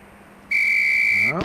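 A sharp, sustained single whistle blast sounds for under a second in Police Quest: SWAT shooting training, loud and steady, followed by a brief thud as it cuts off.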